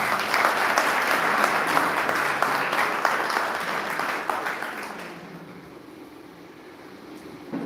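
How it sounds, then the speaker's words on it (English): Audience applause at a security and safety team launch event, steady crowd clapping for about five seconds that then dies away into quiet room noise. "Please give him a big round of applause."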